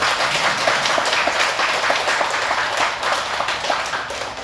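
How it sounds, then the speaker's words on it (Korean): An audience claps in applause during a Buddhist dharma lecture on the Lotus Sutra, a continuous, fairly loud patter of many hands that fades slightly toward the end. "주지스님한테도 다시 한번 박수를 한번 쳐주십니다"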